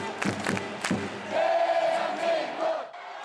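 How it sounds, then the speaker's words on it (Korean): Thousands of Red Devils fans packed into Daegu's Samsung Lions Park for a World Cup viewing against Sweden send up a sustained chanting roar, with sharp thumps and shouts at first, then a loud, tonal collective chant swelling and fading. "경기가 시작되자 4년 만의 함성, 대한민국이 구장에 울려 퍼집니다."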